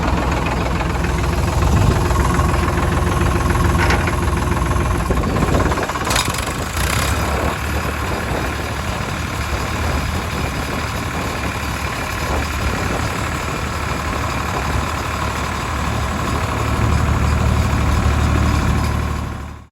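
A farm tractor engine idles nearby in a steady, loud mechanical chug with some knocking, running alone with brief clanks partway through and a slight swell near the end.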